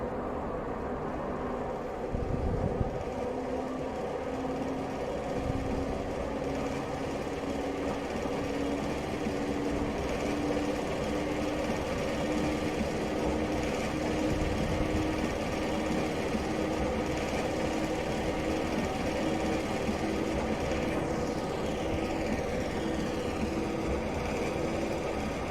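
Class 101 diesel multiple unit from Train Simulator Classic pulling back up to speed, a steady loud engine drone with a rising tonal whine, continuous and close throughout with no talking.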